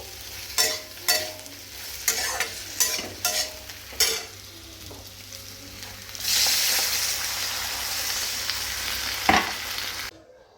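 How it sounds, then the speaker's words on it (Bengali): An egg omelette fries in a pan, with steady sizzling broken by sharp scraping and tapping from stirring, then a louder, continuous hissing sizzle that suddenly cuts off at the end. "আমি আমার জন্য একটা ডিমের অমলেট"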